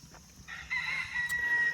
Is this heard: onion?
no